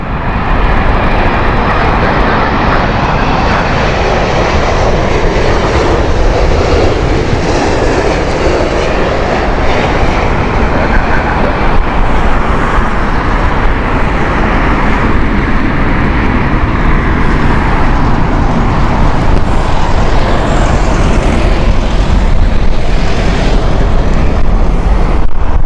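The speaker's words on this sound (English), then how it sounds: "Delhi flight here from Air India." Air India Boeing 787 airliner on a Delhi flight at Heathrow in heavy winds, a loud sustained jet engine roar with steady broadband rumble lasting throughout, mixed with gusting wind noise and no talking.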